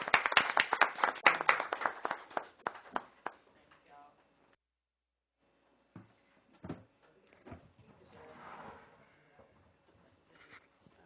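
An audience at a Baker City Council meeting claps in a quick, dense burst that thins into scattered claps and dies out within a few seconds, followed by quiet and a voice speaking.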